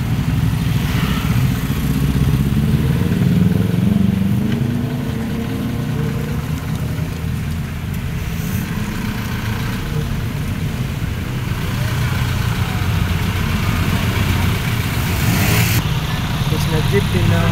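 A traditional Philippine jeepney engine idles at a Bonifacio Day and holiday jeepney gathering in Imus, Cavite, a steady low rumble throughout, with a voice speaking over it in the background.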